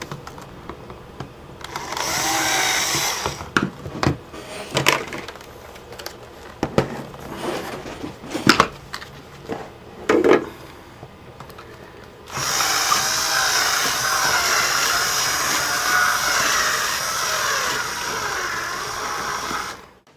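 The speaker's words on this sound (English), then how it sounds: "I'm just going to bring the drill in like a circular motion just to make the hole" A power drill enlarging a hole in a Vaio laptop during a power jack repair whirs in short bursts with pauses between, then runs steadily for several seconds, loud and close.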